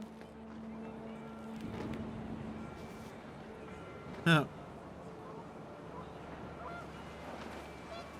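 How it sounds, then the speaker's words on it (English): A single sharp honk from a panicked goose in What Remains of Edith Finch cuts through a low wind and ambient bed, loud and brief near the middle, with faint sounds before and after. "The wind picked up and panicked geese appeared and quickly went."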